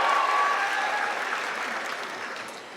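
Sustained applause from a graduation ceremony audience, dense and steady at first, then gradually thinning and fading across the few seconds, with no talking over it.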